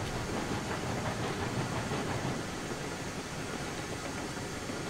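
A steam locomotive hauling logs and lumber in the video game Railroads Online gives a steady, loud, broadband hissing and chuffing rush that continues without a break.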